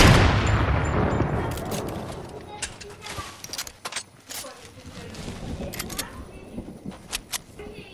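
Gunfire in the Fortnite video game: a burst of sharp shots opens the clip, then scattered single cracks and short volleys ring out over a continuing game soundscape.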